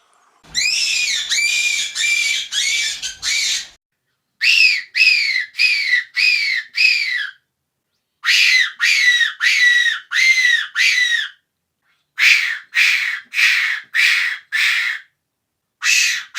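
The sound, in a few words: Tenterfield type fox whistle imitating a rabbit's scream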